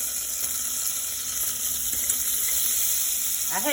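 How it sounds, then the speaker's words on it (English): Butter and bacon sizzle in an overly hot pan, giving a steady, close, hissing crackle that runs throughout without a break. "Put a little butter in there. And I'm going to put some bacon in here."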